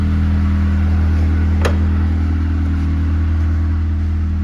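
A Honda car engine idles steadily while warming up after exhaust manifold heat shield work, a loud constant low hum with a single brief click partway through.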